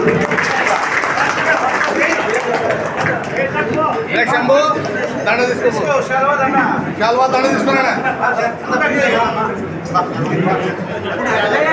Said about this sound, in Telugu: మీరు ప్రతి ఒక్కరు క్లాప్ తో గౌరవించాలి